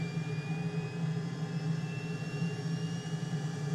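Jet engine of an L-39 Albatross trainer in Microsoft Flight Simulator, warming up after start with a steady, loud whine and roar over a low rumble, continuous and alone.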